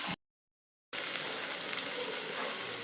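Vegetables sauté in a hot pan for a vegetable pulao, a bright, steady sizzle that cuts out briefly and then returns, close and continuous.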